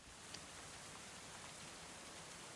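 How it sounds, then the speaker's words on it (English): Steady rain falling in the medieval colony-building game Going Medieval, a soft continuous hiss of drops that holds at an even, gentle level throughout, with no voices over it. "Raining."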